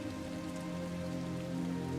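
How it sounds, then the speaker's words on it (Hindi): Rain patters steadily and softly on a surface at night, a continuous dense spatter of small drops with no voices. "राम सिंह रात को चरपाई पर लेटा बारिश की बूंदों की आवाज सुन रहा था।"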